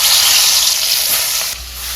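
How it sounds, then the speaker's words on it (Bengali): Fish marinated in salt and turmeric frying in hot oil in a kadai: a loud, continuous close sizzle that eases slightly toward the end. "মাছগুলো এখানে ভাজা হতে থাক,"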